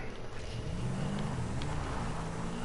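A car engine in the GTA 5 video game drones steadily and loudly, with a rising tone suggesting acceleration throughout.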